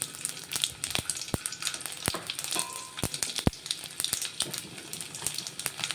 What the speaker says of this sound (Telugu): ఆయిల్ వేడెక్కింది కొంచెం జీలకర్ర ఆవాలు వేసుకుందాం అలాగే ఒక నాలుగు వెల్లిపాయలు వేసుకుంటున్నాను ఒక పచ్చిమిర్చి